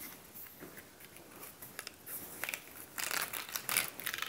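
A laser-cut cardboard living hinge, cut on a Monport 40W Pro CO2 laser, is bent back and forth by hand, giving a quiet, close, crinkly crackling that grows busier and louder toward the end, with no talking.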